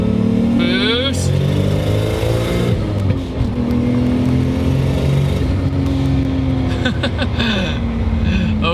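A 520 hp 1JZ-engined Mk3 Toyota Supra with a five-speed accelerates hard under load, its steady engine drone rising through the gears with turbo boost whoosh and a quiet exhaust, while people talk over it throughout.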